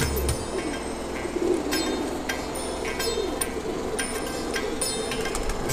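Rampuri pigeons coo softly in a loft, low murmuring calls repeating under scattered sharp clinks and rattling, close and continuous with no talking.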